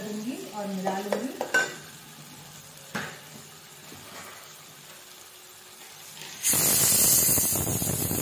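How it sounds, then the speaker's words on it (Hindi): A spoon clatters and stirs in a pressure cooker as mixed lentils go into a hot tempering for spinach dal, with metallic scrapes and knocks, then a loud sizzling burst near the end. "मैं इसीलिए अब दाल को ऐड कर दूंगी और मिला लूंगी।"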